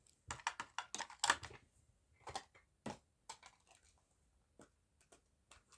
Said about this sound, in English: There's our cool little typewriter.